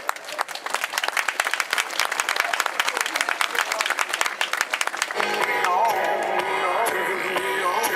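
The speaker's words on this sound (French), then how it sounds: "Et il va chercher vos applaudissements en musique, s'il vous plaît." Spectators at a cyclo-cross race podium in La Mézière applaud the third-place senior rider, dense crackling claps that give way to music over a public-address voice.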